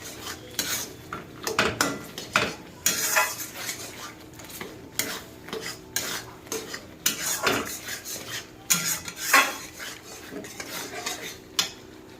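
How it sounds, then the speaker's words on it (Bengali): Chopped tomato is sautéed in masala in a pan for an egg korma. A spoon scrapes and clinks against the metal in irregular strokes over a soft, low sizzle, close up and without talk. "এর মধ্যে আমি দিয়ে দেবো টমেটো কুচিটা, দিয়ে ভালোভাবে আমি কষিয়ে নেব"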